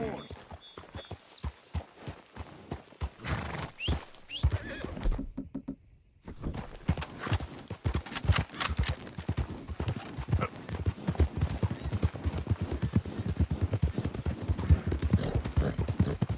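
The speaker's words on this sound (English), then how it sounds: "That's a good horse." A Liver Chestnut Morgan horse in Red Dead Redemption 2 gives a whinny and clip-clops along with steady hoofbeats, close and clear, while a voice talks over parts of it.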